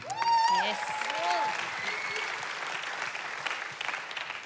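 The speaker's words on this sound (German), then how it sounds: "Applaus unserer Gina." Applause from a church audience at a Sunday evening service fills the space. It follows a brief burst of whoops and cheers, then settles into a steady, moderately distant patter that holds to the end.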